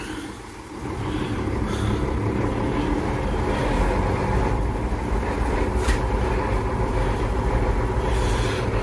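Old Ford tractor, about 45 years old, driving along in second gear, with a loud, steady low engine rumble and drivetrain drone that continues without a break and no one talking.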